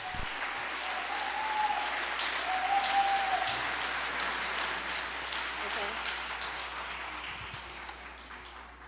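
A gathering of religious leaders breaks into a warm round of audience applause welcoming a speaker, steady crowd clapping sustained for several seconds and slowly fading, with a few faint whistles near the start.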